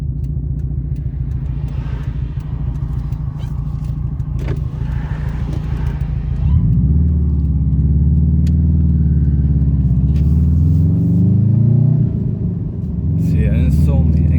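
Subaru Impreza WRX on an open road, engine rumbling low under someone speaking, then building into a louder, deeper acceleration that holds and swells near the end.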